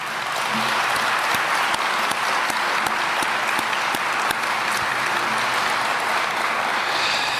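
A large crowd claps steadily in sustained, dense applause that holds an even loudness throughout, at a mayor's farewell address.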